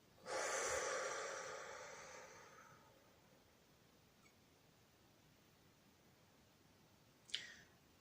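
A single long, slow exhale during a guided meditation breathing exercise: a soft airy whoosh that swells and fades over a few seconds, quiet and close, followed by near silence and a small click.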